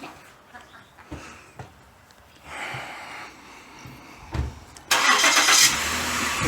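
A car engine cranks and catches, then revs loudly and settles into a steady running roar close by, after some shuffling and handling noises.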